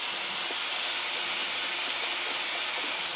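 Ground meat seasoned with chili powder browns in a pan, giving a constant close sizzling hiss with faint crackles throughout.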